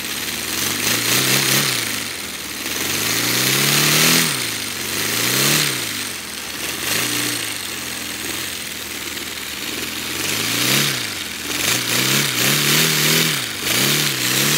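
Paper radial engine model, turbocharged and driven by pumped-up balloons, runs with a loud, continuous buzzing exhaust drone that rises and falls in pitch in repeated surges, close up with no talking.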